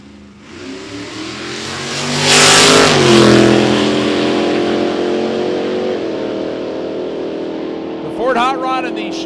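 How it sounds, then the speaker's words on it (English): A supercharged Ford hot rod and a 1964 Chevelle launch and accelerate hard down a dragstrip, their loud engines rising to a roaring peak and then fading into the distance, with an announcer talking over the noise. "Hot Rod and the Chevelle on their way down the racetrack."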